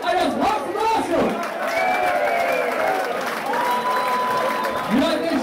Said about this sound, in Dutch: We hebben een groot applaus voor de Thijs en Nieuwkerk